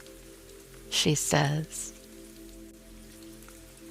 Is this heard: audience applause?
no